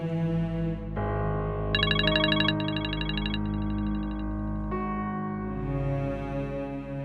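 A mobile phone ringtone plays a bright repeating melody and goes unanswered, sounding steadily for several seconds over a low background hum.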